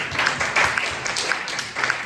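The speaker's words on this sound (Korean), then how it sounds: "우리 박수 한번 주시죠." A youth church congregation gives a round of applause after a student's answer during a sermon, a burst of group clapping with some voices mixed in.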